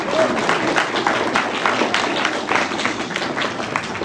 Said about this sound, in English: Can we just have another round of applause to say thank you for coming?